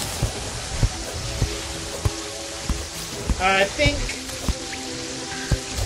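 Rain patters in the Terraria video game, with soft dripping ticks and a few sharper taps scattered across the clip while a player speaks briefly over it.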